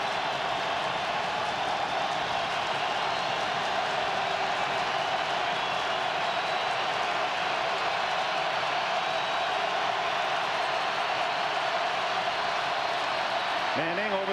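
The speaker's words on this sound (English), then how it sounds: "Just listen to this crowd." Steady, dense roar of a stadium crowd at a 2003 NFL divisional playoff game, Colts at Chiefs, filling the whole stretch as a continuous wash of cheering with no clear breaks.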